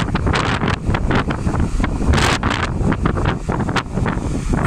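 Cold autumn wind buffets the microphone in steady, loud gusts with broadband roar throughout, a few sharper blasts standing out, no voices.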